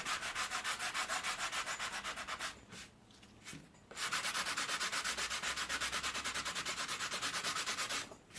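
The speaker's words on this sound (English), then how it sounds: "Keep it nice and small, but make sure you keep the block flat. Don't try to dig at it." A sanding block rubs back and forth over putty on a skateboard deck in fast, rhythmic scratchy strokes, pausing briefly midway before resuming the steady sanding.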